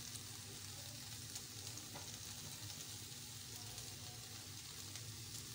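Tikka boti pieces frying in oil in a pan, producing a steady, faint sizzle that continues evenly without interruption.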